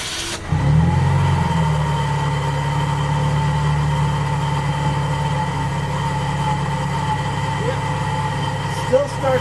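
An old high-mileage car engine with over 220,000 miles cranks and catches reluctantly, then settles into a steady, loud, low idle that runs for several seconds.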